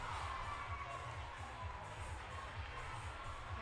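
A large crowd cheers and shouts continuously at a fitness competition, the Burn Boot Camp Athlete Games, a steady roar with whoops that never lets up.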